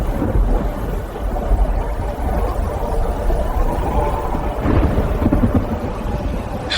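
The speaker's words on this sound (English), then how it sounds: "Storm's brewing faster than the elders said." A mountain thunderstorm gives a steady, heavy low rumble of rolling thunder with the hiss of rain over it, loud and continuous with no voices.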